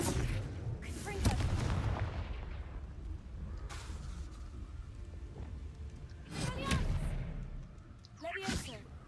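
Confringo fire spell explosions in Hogwarts Legacy: a few heavy booming blasts, loudest near the start and toward the end, over dense game action with a voice talking throughout.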